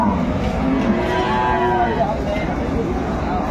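A cow and her month-old calf moo repeatedly at the Aftabganj cattle market in Dinajpur. The calls are drawn-out and close, set over a steady bed of crowd noise.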